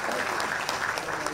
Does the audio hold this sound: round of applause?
yes